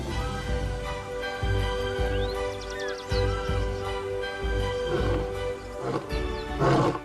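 A lion in Nsefu, Zambia, gives a series of deep, rhythmic grunting roars pulsing every half second or so, building in force, with music playing over it.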